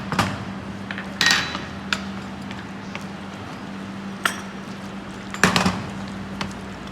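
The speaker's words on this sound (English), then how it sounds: "Okay, you have to just mix the pasta, and then you have to take it out from there." Spaghetti in arrabbiata sauce is stirred in a pan with a spatula, giving scattered metallic clinks and scrapes against a low background hum.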